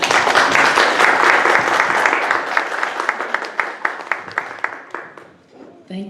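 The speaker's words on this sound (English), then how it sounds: "So let's give a round of applause for George." Audience applause for a speaker named George at a medical school teaching event. Dense, loud clapping fills the room, then thins into scattered individual claps and fades over about six seconds.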